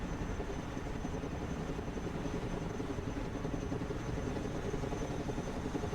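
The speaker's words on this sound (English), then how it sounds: "Helicopters are impressive machines. Boy, are they noisy." Constant whirring drone of a helicopter engine and rotor in a video game, steady and fairly faint, with no voices.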